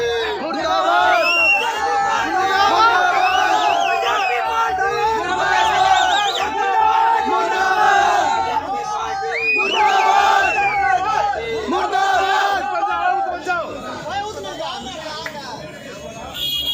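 An angry crowd protests against a BJP candidate in Haryana, with many voices shouting slogans in rising and falling waves, loud and close, with some voices standing out above the rest.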